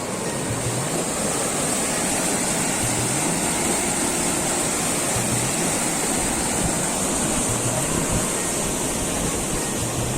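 Continuous, loud rush of water flowing out of a pipe toward a pond, steady and unbroken throughout with no voices.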